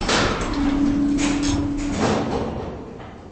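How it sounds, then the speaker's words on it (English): Schindler M-Series elevator door closing in the Roblox game, a smooth sliding rush with a thin steady tone partway through, ending in a soft settling thud, no voices. "Door closed."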